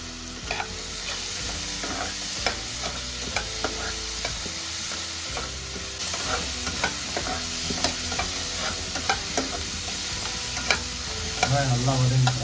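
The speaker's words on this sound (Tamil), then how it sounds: "நல்லா வதங்கிக்கிறோம்" Onions, green chillies and curry leaves sautéing in a pan give a steady close sizzle, with frequent ticks and scrapes of a stirring spoon throughout and no talk.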